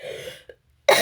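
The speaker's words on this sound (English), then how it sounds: "I can't stop coughing today" A smoker coughs, a short rough cough and throat clearing close to the mic, followed by a brief pause and a louder harsh burst at the end.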